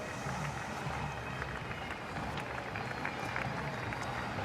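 A large crowd at the Anzac Day march in Perth, a steady dense wash of murmuring, cheering and scattered clapping that holds loud and continuous throughout.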